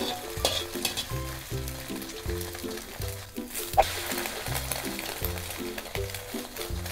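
An egg sheet fries in a pan for Thai rice with shrimp paste, a steady sizzle with soft spatula scrapes as it is rolled, heard close and alone over a bed of background music.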